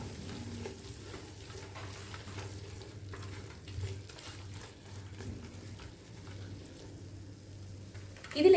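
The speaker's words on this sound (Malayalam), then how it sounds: "ഇനി നമുക്ക് ഇതിലേക്ക് ഒരു 2 ടേബിൾ സ്പൂൺ ഗീ ഒഴിച്ചു കൊടുക്കാം." Ghee poured over masala in a pan for prawn rice, a soft sizzle with gentle stirring scrapes under a low steady hum, with a louder clatter at the very end.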